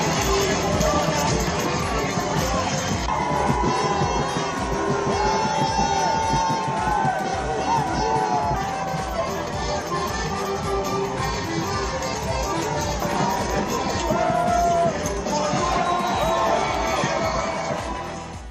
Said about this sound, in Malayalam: തുറന്ന ബസ്സിൽ തലസ്ഥാന നഗരിയായ പ്രയയിലൂടെ നീങ്ങിയ കളിക്കാരെ ജനങ്ങൾ ആർത്തുവിളിച്ചു